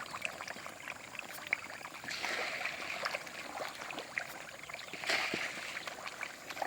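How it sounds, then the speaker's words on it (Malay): A small hill stream trickles and babbles quietly over rocks, a soft continuous flow with occasional brighter splashes. "air punca, air bukit korang"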